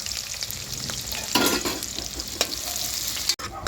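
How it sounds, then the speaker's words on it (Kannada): Sliced onions fry in oil in a pan, giving a steady crackling sizzle with a few louder stirring scrapes, close and alone with no talk. "ಸಣ್ಣ ಉದ್ದುದ್ದು ಕಟ್ ಮಾಡ್ಕೊಂಡಿದ್ದೀನಿ ಈರುಳ್ಳಿ ಫ್ರೈ ಮಾಡ್ಕೊಳ್ಳೋಣ"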